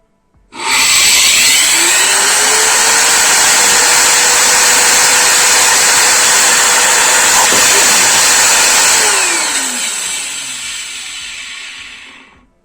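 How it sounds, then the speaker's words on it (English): A vacuum cleaner motor from a Gorenje SVC216FGD cordless vacuum, run on a 20 V bench power supply, spins up to a loud steady whine that holds for about eight seconds, then winds down. "Now let's test the motor. I put my power supply to 20 volts, 5 amps."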